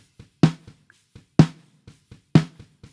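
Snare drum from the top microphone alone, unprocessed in a mix: three loud, sharp hits about a second apart, with softer ghost strokes and small taps between them.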